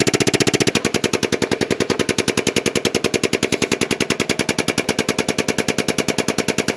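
A 22-ton jack lifting a truck with a rapid, steady mechanical pumping rattle, dozens of evenly spaced loud pulses close by, running continuously without speech.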